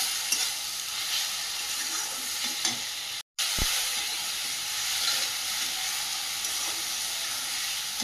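Onion paste fries in a pan and is stirred, a steady loud sizzling hiss with soft scraping strokes, up close, broken once by a sudden brief dropout of silence, with no voices.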